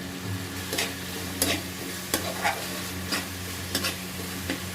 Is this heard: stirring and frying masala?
yes